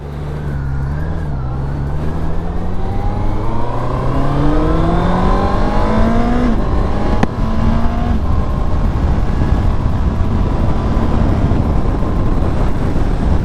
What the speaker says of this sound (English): So let's put it in gear and let's take off.